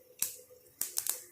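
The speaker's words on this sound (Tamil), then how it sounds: "கொஞ்சம் பெருங்காயம், நல்லா இப்படி பொரியும்." Asafoetida splutters in hot oil in a home kitchen, a few sharp crackling pops over about a second, close and fairly quiet against a faint background hum.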